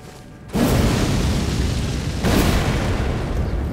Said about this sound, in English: heavy big explosion